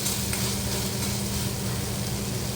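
Masala for kurdai bhaji being stirred and fried in a pan, a steady close sizzle with spoon scraping running throughout, no talking.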